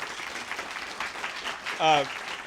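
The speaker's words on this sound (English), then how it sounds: "Let's give her a round of applause." Light audience applause for a guest at an academic event, moderate and fairly even, with a brief voiced sound rising over the clapping near the end.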